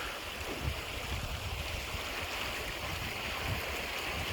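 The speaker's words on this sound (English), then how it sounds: "This is the start of the river Lathkill." The River Lathkill flows out from a cave at the head of Lathkill Dale, its water making a steady, close rushing wash with no voices.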